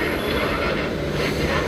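An AC local train pulls into a Mumbai platform, its carriages rumbling and wheels squealing in a loud, continuous wash of rail noise close by.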